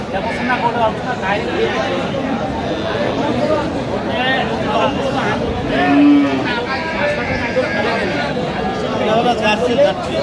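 Cows and calves at a village cattle market, with a few low moos rising briefly out of dense crowd chatter and nearby voices, the animals mostly buried under the talk.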